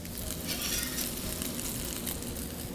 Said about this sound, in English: Don't you love that sizzle?